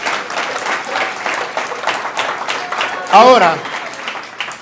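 Congregation applause during a Spanish-language Christian sermon, a short burst of clapping under and after the preacher's loud voice, with people speaking throughout.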